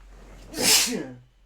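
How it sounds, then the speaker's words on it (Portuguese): A single loud, close sneeze with a sharp breathy burst, followed by a short voiced trailing tail, then quiet. "Nossa, tá de espirrar."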